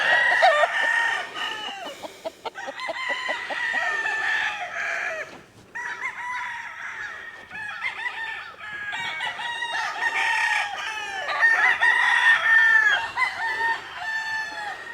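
A good-looking, colourful rooster on a ranch crows repeatedly and loudly up close, its calls mixed with clucking from nearby breeding stock fowl, with no talk over it.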